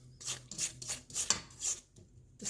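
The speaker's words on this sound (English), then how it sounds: "stopping and scraping down the sides of the bowl" A spatula scrapes around the sides of a mixing bowl of cookie dough made with Crisco, sugar and vanilla, giving a series of short raspy strokes in an irregular rhythm, close and moderately loud with no talking.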